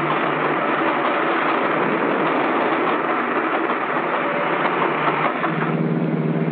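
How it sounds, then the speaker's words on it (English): A continuous rumbling, rattling roar of a train passing over a railroad underpass holds steady throughout, loud and close with no pauses. "A train is coming."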